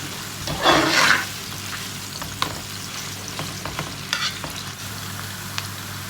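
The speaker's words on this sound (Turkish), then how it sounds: "Şimdi güzelce bunları soteleyeceğim." Steady sizzling of onions sautéing in olive oil in a pan, with a louder burst of stirring near the start and occasional clinks, continuous and close.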